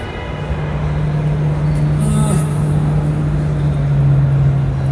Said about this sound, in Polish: te dźwięki, które słyszycie, to nie jest silnik spalinowy, tylko dźwięki, które wytwarza sam samochód